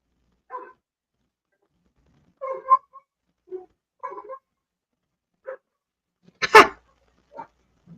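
Several dogs barking indoors in short scattered yaps and woofs, one louder bark near the end, with quiet gaps between them and no talk.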